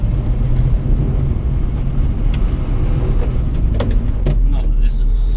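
Steady road rumble and tyre noise inside a moving 620 car fitted with new wheels in place of its old low-profile front tyres, a continuous drone with a few light knocks near the end.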